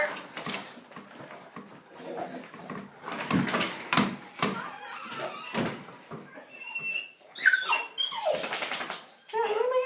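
Charlie the dog whimpers and whines at a door, thin high cries rising near the end amid scuffling, a door thunk and shifting movement close by.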